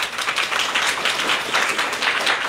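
An audience applauding at a Bhagavatam discourse in Jaipur, a crowd clapping in a loose, rhythmic pattern that rises and falls in waves, loud and close throughout.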